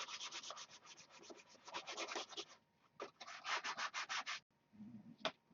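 Sandpaper rubbing by hand on a stunt model aircraft at a workbench during paint prep, a rapid run of rhythmic strokes in close bursts with a brief pause midway, then a short low scuff and one final stroke.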